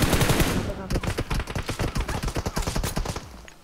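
Automatic gunfire in the BGMI battle royale game: a dense, fast run of close, sharp shots rattling in quick rhythmic bursts for several seconds, with some fainter shots in the background.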